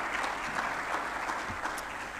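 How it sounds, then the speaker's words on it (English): Enthusiastic audience applause fills a hall at a management and HRD summit in Lahore, a dense, steady wash of many hands clapping throughout, loud and close with no talk over it. "Everybody, put your hands together."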